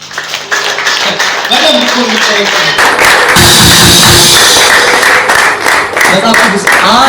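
A church congregation claps together at a deliverance service, a dense burst of applause swelling in the middle of the clip while a preacher keeps talking over it.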